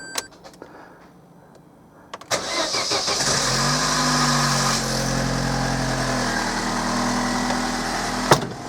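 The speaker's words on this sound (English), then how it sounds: "So I'm going to fire it up now and hope that it doesn't blow anywhere." Vauxhall Corsa engine being started after a snapped manifold stud repair: quiet clicks, then the starter catches and the engine settles into a steady, close idle, with no one talking.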